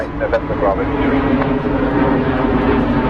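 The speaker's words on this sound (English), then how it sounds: "Cobalt Airbus A320. This is a Neo going over us." An Airbus A320neo airliner passes overhead at London Heathrow, its engine roar a steady broad rumble while someone talks over it.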